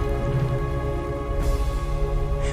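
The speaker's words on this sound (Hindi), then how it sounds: "फिर अचानक से बारिश होने लगी।" Sudden rain falling in a jungle, a steady broadband hiss of drops with a low rumbling bed and a brief brighter surge midway, heard alone without voices.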